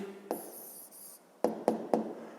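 A pen scratching on paper while an answer to a fifth-grade maths exercise is written down, a longer stroke followed by three short quick marks, quiet and close with no talking.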